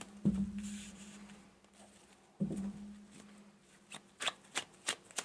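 Tarot cards are shuffled by hand in two quick riffling bursts, each opening with a soft thump, and a few light taps and slaps of cards follow near the end in a quiet room.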